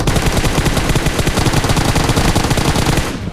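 Sustained rapid automatic gunfire in the mobile battle royale game PUBG Mobile, loud and dense with continuous bursts, tapering off right at the end.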